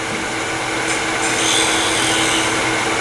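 A tool planes across the bottom of a wooden tenon spinning on a lathe, giving a loud, close, continuous hissing cut with no pauses.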